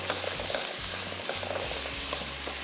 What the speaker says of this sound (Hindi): चिकन को फ्राई कर लेंगे गार्लिक के साथ।